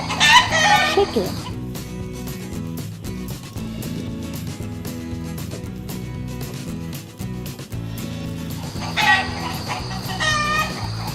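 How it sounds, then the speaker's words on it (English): A toy chicken gives short bursts of clucking and crowing at the start and again near the end, bright and fairly loud over continuous nursery rhyme music in a farm-animal song. "Chicken."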